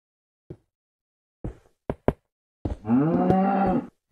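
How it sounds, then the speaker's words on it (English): Cow in the Minecraft video game: a few short knocking clicks, then a single drawn-out low moo lasting about a second, loud and close. "Cow, what do you think you're doing up here?"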